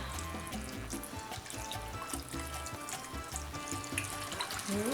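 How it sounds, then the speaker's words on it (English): Saffron broth poured steadily into a paella pan, a continuous close splashing and trickling stream lasting the whole stretch with no talk. "I'm going to carefully pour that in here and pray that I don't spill it anywhere else"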